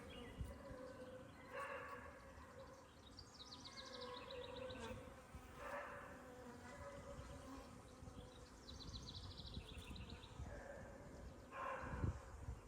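Honey bees buzz steadily inside a crowded nuc hive, a dense, continuous hum that stays close and fairly even for the whole stretch, with no talking over it.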